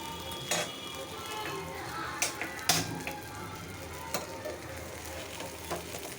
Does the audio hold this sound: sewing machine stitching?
no